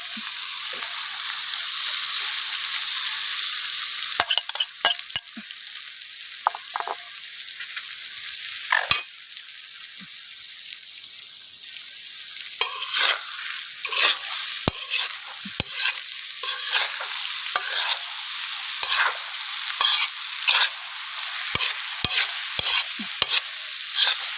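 Egg cooks in a sizzling pan alongside mud crab, a steady frying hiss broken by many sharp clacks and scrapes of a spatula stirring against the pan, close and loud, no voices.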